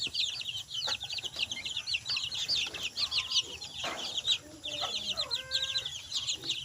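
Rhode Island Red and Black Australorp chickens cluck in a backyard flock, with soft, repeated calls close by over a steady chorus of high chirping birds and a constant low background hum.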